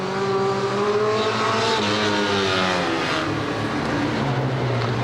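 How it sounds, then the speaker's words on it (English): Stock car racing at the Warton Stock Car Club, engines roaring loudly and continuously as the cars race round the track, with overlapping revving tones and no talking, recorded on VHS. "number 44 comes round the top end to take the checkered flag, absolutely flying"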